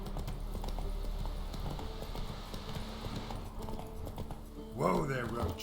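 Roach, the horse in The Witcher 3 video game, trots along with steady, rhythmic hoof clip-clops under soft game music, and a voice speaks briefly near the end.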